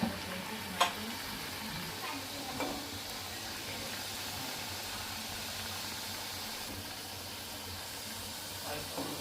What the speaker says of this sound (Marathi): तेल आता मस्त तापलेलं आहे. थोडे थोडे टाकून तळून घ्यायचे.